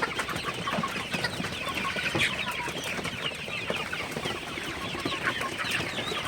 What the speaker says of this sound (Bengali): রাতের ভিউটা তো সোনালি সুপার হাইব্রিড মুরগিগুলা